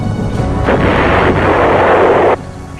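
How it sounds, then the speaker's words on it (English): A large American 175mm howitzer fires, a heavy booming blast that rolls on as a dense roar for about two seconds and then cuts away to low background rumble. "The biggest American artillery pieces, the 175mm howitzers, could destroy a target at a range of 20 miles."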